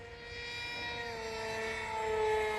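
An RC MiG 29 V4 model jet flies fast at low level, its steady high whine sliding gradually in pitch as it passes, moderately distant and growing slightly louder toward the end.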